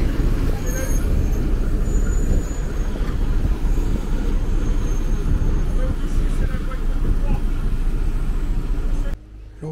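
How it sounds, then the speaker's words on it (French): Low, continuous rumble of a train close by as the locomotive is moved at the end of the line at Port-Bail in the Cotentin, steady and loud for most of the clip before dropping off abruptly. "Le train est allé au bout de ligne, changer la locomotive de place"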